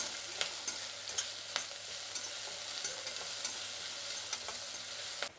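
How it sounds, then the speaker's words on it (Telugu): Green chillies, curry leaves and ginger sizzle steadily in hot oil for a potato tempering, with light scraping and tapping of stirring throughout. No voices. "కొద్దిగా వేగిన తర్వాత పచ్చిమిరపకాయలు, అలాగే కరివేపాకు అండి."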